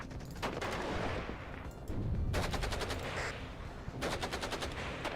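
Gunfire in the Cold War strategy game WARNO: sustained, dense volleys of rifle and machine-gun fire with repeated sharp bursts, loud and continuous throughout, with no voices.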